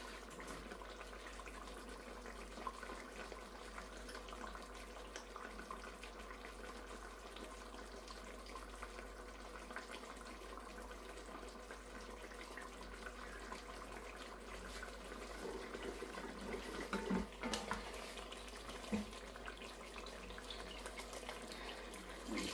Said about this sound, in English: Adding some water because I've added some stock paste, so that should help.